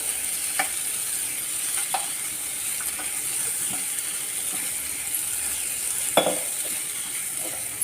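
Mutton sukka with pepper, cumin and curry leaves being stirred in a pan: steady sizzling hiss with a few sharp spoon scrapes and clinks scattered throughout, fairly close, no talking.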